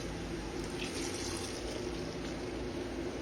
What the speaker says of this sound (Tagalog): Atin na chicken broth.